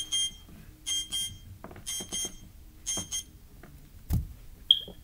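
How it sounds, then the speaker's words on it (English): A kitchen timer alarm rings in repeated bursts of bright electronic beeping, loud and close, with short gaps between bursts and a thump near the end. "Turn off the timer."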